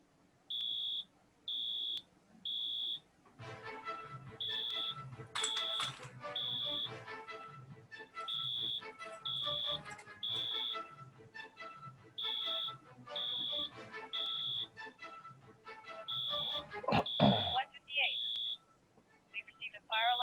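A building fire alarm sounds in repeated loud electronic beeps in a steady on-off pattern, with people talking underneath and a burst of louder activity near the end.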